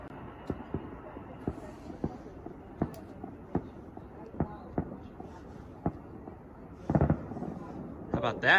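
Fireworks going off at an outdoor evening display, a run of sharp distant pops and thuds at irregular intervals, with a louder crackling cluster near the end and people talking faintly in the background.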